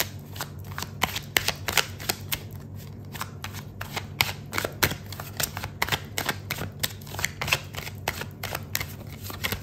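A deck of tarot cards is shuffled continuously, making rapid riffling clicks and soft flutters close to the listener over a low steady room hum.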